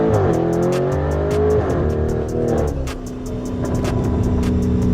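A Lamborghini supercar accelerates hard, its engine roaring loud and close with rising revs and a brief gear-change dip, continuous and without talk.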